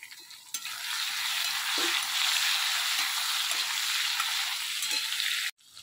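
Ginger paste and spices fry in a hot pan with a steady, close sizzle that holds for several seconds, stopping abruptly near the end.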